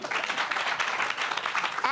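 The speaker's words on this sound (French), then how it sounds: "Applaudissez pour elle." An audience applauds steadily for a woman at a francophone event in Abidjan, a dense wash of many hands clapping that continues without a break.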